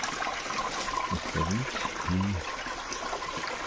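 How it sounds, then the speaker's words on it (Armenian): A steady trickle of running water from a spring near Aruch fortress fills the scene, and a voice speaks briefly over it in the middle. "սա երեխաների ջրի աղբյուրը"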